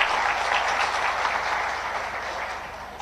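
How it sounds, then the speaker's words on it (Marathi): Applause from an audience at a community gathering in Dombivli, a steady dense wash of clapping lasting several seconds, slowly thinning toward the end. "त्यांच्यासाठी एकदा टाळ्या वाजवा"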